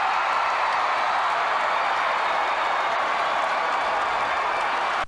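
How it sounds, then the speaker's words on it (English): A Greensboro, North Carolina arena crowd applauding Ric Flair's entrance at a wrestling event, a dense, even wash of clapping and crowd roar that stays loud and unbroken throughout. "he's coming out to a massive applause from the Greensboro, North Carolina crowd"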